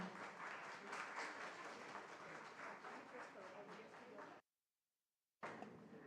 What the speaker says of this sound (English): Please make a huge round of applause for them.